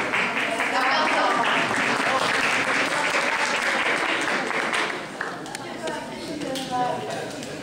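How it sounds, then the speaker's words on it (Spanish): Sustained audience applause at a political education class presentation, a dense wash of many hands clapping at steady volume, easing slightly partway through, with some voices mixed in. "Aplausos."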